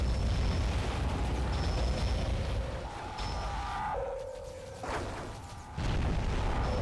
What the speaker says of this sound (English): instant hit weapons like the howitzer are pretty cool